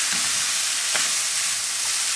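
Vegetable couscous with raisins stirred in a pan, a soft steady sizzle with a few light spoon scrapes and taps, close and without voices.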